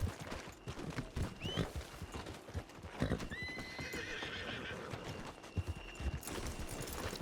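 Horse hooves clip-clop steadily in Red Dead Redemption 2, a rhythmic run of close, clear hoofbeats with a couple of neighs and whinnies breaking through over a busy game soundscape.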